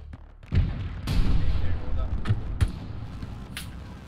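Hell Let Loose battlefield gunfire: several sharp, booming shots at irregular intervals, some near and some more distant, over a dense rumbling background with voice chatter.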